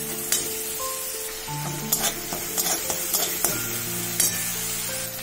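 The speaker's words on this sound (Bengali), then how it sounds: "এবার ভালোভাবে এটা আমি কষিয়ে নেব" Spice masala sautéed with a splash of water in a pan for an egg varta, with a steady sizzle, repeated scraping stirs and clicks under tonal background music.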